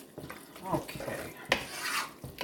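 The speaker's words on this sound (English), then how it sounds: "we'll give this a stir and see what we're working with" A spoon stirs green bean casserole ingredients in a pot, a short stretch of soft scraping and shuffling strokes with a louder scrape midway, heard close and quiet.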